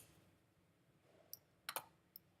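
A few sharp computer mouse clicks toggle a paint colour in a drawing program, two isolated taps then a quick close pair and one final click, faint and clean against a quiet room.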